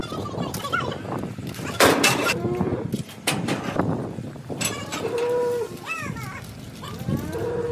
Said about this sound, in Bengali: তো আজকেও কিছু নতুন গরু এসেছে